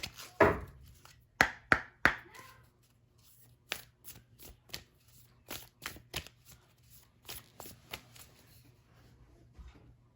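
A deck of tarot cards being shuffled by hand, with a few sharp riffles at first, then a run of quick, soft, close card slaps and rustles, fairly quiet, with no talk.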